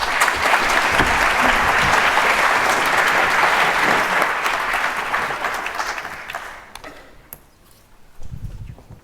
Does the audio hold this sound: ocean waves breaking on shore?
no